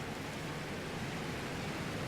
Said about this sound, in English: Near the noisy waterfall.